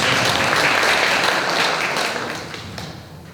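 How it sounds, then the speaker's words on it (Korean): A seated forum audience at a panel discussion gives a speaker a round of warm applause, dense and loud at first, then thinning out and fading toward the end. "큰 박수로 받아주세요."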